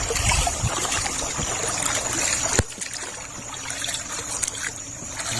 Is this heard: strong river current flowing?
yes